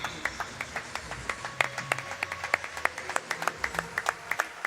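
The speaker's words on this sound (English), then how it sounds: "Massive round of applause, please." A crowd applauding at a swimming championship finals session, fairly close, with clear individual claps forming a brisk, uneven rhythm that holds steady throughout.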